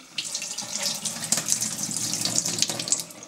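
Water runs steadily from a tap while film is being developed, a bright hissing gush that starts abruptly and keeps flowing, close and alone.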